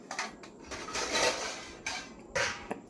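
Steel vessels and pots are lifted out and set into a dish stand, giving several close metallic clinks and clanks in separate bursts against a quiet background.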